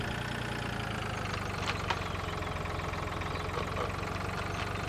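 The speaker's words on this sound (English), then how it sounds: "Red tractor." A red tractor engine idles steadily in the Farming Simulator 2013 game, a continuous low mechanical drone with a faint rattling knock running through all five seconds, with no talk over it.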